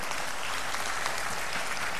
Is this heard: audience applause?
yes